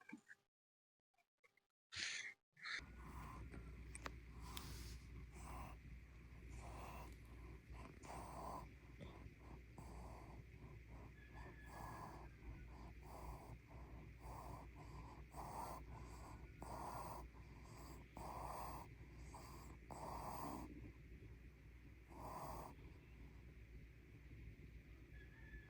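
A sleeping pet snores quietly and steadily, with soft snorting breaths repeating in a regular rhythm over a faint background hum.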